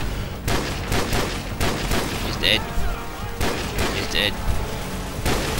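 Gunfire in Call of Duty 4 rattles in dense, overlapping bursts and bangs throughout, with a player talking over the shooting.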